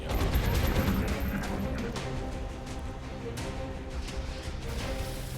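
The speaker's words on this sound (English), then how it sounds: "Incoming fire." Gunfire in the video game XCOM Enemy Within, a dense rattling barrage of shots and impacts that stays loud and continuous throughout.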